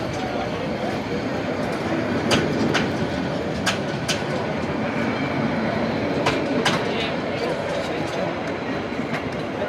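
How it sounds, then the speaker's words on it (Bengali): The Sagarika Express train pulls away from Chandpur Court station, a loud continuous rumble with sharp rail clacks and clicks, and a voice talking faintly under it. "সাগরিকের ট্রেনটি এখন ছেড়ে এগিয়ে যাচ্ছে"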